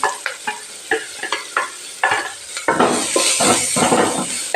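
Green chili and onion frying in oil in a pan for egg poriyal, with a few sharp stirring clatters giving way to a loud, steady sizzle, close up and without talk.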